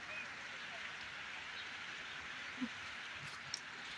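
Heavy rain pours down in a steady, unbroken hiss that stays even for the whole stretch, with a couple of faint drips or taps near the end.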